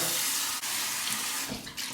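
Hot water pours steadily from a tap over a ceramic shaving bowl, a close, continuous hiss of running water with no voices.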